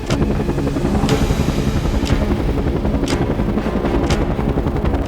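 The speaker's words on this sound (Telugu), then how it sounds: "సరిగ్గా పన్నెండు గంటల ముప్పై నిమిషాలకి ఈ హెలికాప్టర్స్ బిన్లాడెన్ కాంపౌండ్కి చేరుకున్నాయి" Loud, close helicopter rotors thump rhythmically over a heavy engine roar, continuous and steady.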